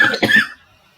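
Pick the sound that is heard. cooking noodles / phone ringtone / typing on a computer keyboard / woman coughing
woman coughing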